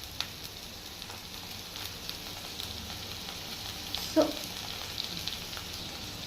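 Small sambar onions and a few curry leaves fry quietly in oil, giving a faint, steady crackle with one brief louder spurt partway through.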